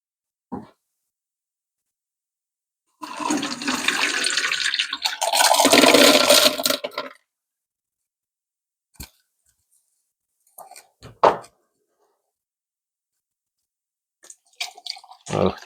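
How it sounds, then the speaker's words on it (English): Water rinses a rock tumbler drum and its rocks in a few separate bursts: one long splashing pour, then short clattering rinses and drips with silence in between. "Rinse this tumbler out a little, rinse the drum out while I'm rinsing the rocks off."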